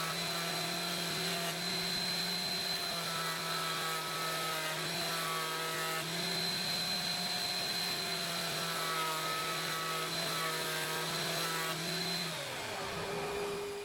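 A WoodStarter 6-inch jointer shaving a board, a loud constant motor whine with the cutterhead's steady buzzing tone, holding for about twelve seconds before the cut ends and the pitch drops.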